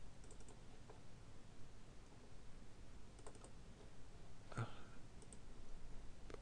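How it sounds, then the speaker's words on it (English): Soft, quick keystrokes on a computer keyboard enter a command, faint and close. The clicks come in scattered small clusters over a low background hum, with no one speaking. "Simply type echo off followed by java dash jar and the path to"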